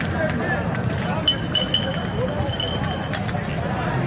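Glass clinks and chinks in a city street amid a crowd during G20 protests in Hamburg, with a steady babble of voices and light scattered clinks throughout.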